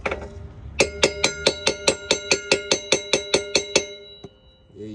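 Rapid series of about fourteen sharp metallic hammer strikes on a socket fitted over a seized brake rotor bolt, evenly spaced and ringing, close and loud, followed by a brief pause and a faint scrape.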